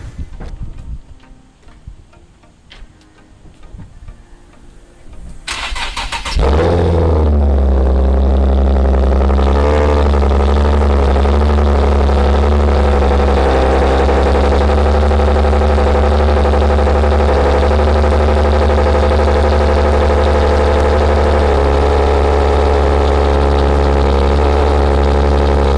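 A Nissan 370Z fitted with a new intake tube cranks and fires after a few seconds of quiet shuffling, then holds a loud, steady idle close by with a faint ticking.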